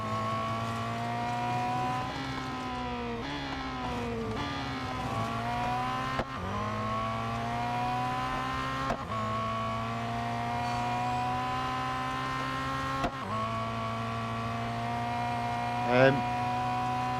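A Ferrari race car engine in the Real Racing 3 mobile game drones and climbs in pitch through gear changes, with brief shift breaks and a short squeal near the end, steady and close.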